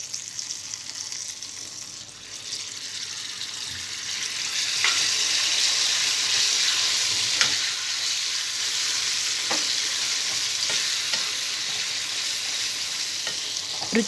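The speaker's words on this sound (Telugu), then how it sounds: "పోపు ఫ్రై అయిన తర్వాత ముందుగా నూరుకున్న పచ్చడి వేసుకోవాలి." Ground sorrel-leaf and onion chutney tipped into a sizzling tempering of seeds, garlic, curry leaves and dried red chillies, then stirred; a steady hiss of frying rises midway, with sharp spoon scrapes against the pan at intervals, close and alone.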